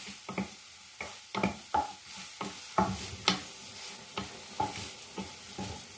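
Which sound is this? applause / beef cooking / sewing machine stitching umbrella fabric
beef cooking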